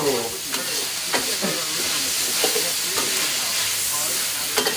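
Pork fried rice being stir-fried in a pan gives a loud, steady sizzle broken by repeated scraping and clanking strokes of the spatula.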